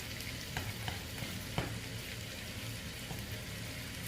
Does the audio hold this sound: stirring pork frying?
yes